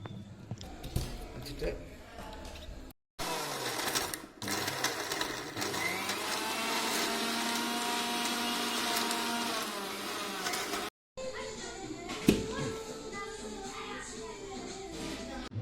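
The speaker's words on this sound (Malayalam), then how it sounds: "അതിൻ്റെ മേലെ പേസ്റ്റ് ആവാൻ വേണ്ടിയിട്ട് ഒരൽപ്പം തൈരും കൂടി ഒഴിച്ച് അത് മിക്സിയിൽ അടിച്ചെടുക്കണം" Kitchen mixer grinder blending fried onion and curd into a paste for chicken surbiyan rice, a loud steady whirring motor that runs several seconds then stops briefly, with talk before and after.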